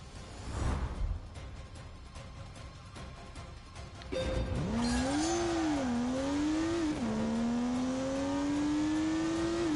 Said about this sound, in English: A skitter of wheel spin